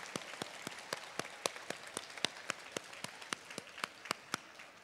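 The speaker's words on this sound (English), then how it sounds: "how about you giving all of those people a big round of applause" A small crowd at a school Battle of the Books event claps and applauds, sharp hand claps overlapping in a brisk, steady patter that carries on for several seconds.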